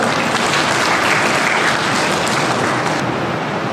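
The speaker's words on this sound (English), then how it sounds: "Please give a huge round of applause." A school debate-competition audience applauds, a loud, dense wash of clapping that holds steady for several seconds and eases slightly toward the end.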